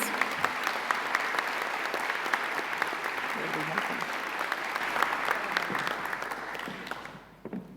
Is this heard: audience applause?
yes